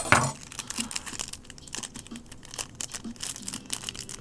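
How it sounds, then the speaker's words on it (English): A 2010 Limited football trading card pack wrapper crinkles and crackles close up as it is cut and pulled open, giving a burst of sharp crinkling at the start and then scattered rustles and crackles. "Let me cut my way through this pack."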